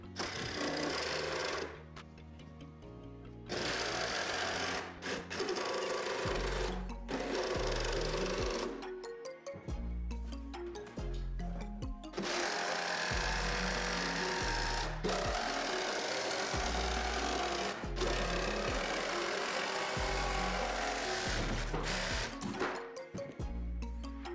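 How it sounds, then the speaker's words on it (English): A jigsaw cuts through wood for a bookshelf, with a rapid buzzing blade chatter and motor whine that starts and stops in bursts, its pitch shifting as it runs, close and loud. "Go Gadget jigsaw, send it all the way through."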